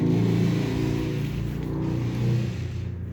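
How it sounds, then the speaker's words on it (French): Motorcycle engine revving nearby outside an abandoned apartment building, a loud continuous rumbling drone that swells and eases over a few seconds. "Je sais pas c'est quoi ce bruit là, mais... C'est une moto."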